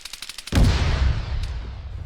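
A rocket blast in the Arma 3 military game hits suddenly after a half-second of lighter rumbling, a loud booming explosion that decays into a long rolling roar.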